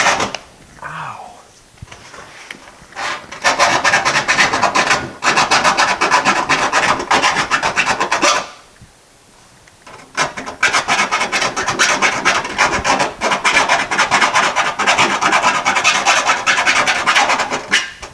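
A hand file rasping back and forth across a workpiece in long repeated strokes, close and loud, with a short pause between two runs of filing.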